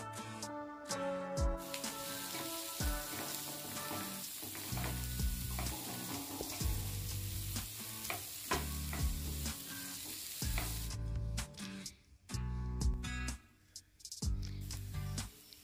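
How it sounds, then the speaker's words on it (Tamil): Chopped onions frying in melted butter, a loud, crackling sizzle with repeated spatula scrapes and clatters as the pan is stirred, pausing briefly near the end. "அதை போட்டு நல்லா ஃப்ரை பண்ணிக்கலாம்."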